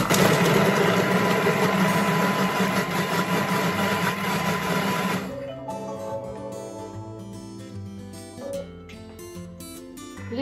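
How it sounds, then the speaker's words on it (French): A Thermomix food processor chops garlic and onion at speed 5, a loud steady whirring motor roar for about five seconds that cuts off abruptly, leaving a quieter clattering, humming tail. "Suivant, 5 secondes, vitesse 5 pour hacher l'ail et l'oignon"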